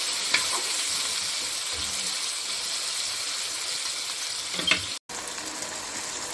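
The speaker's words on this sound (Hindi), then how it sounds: "अब हम इसमें चिकन डालेंगे, बिस्मिल्लाहिर्रहमानिर्रहीम। और इसे 10 से 15 मिनट हम भूनेंगे।" Chicken pieces frying in hot oil with browned garlic in a pan, a loud continuous sizzle with a few stirring clanks and a brief cutout near the end.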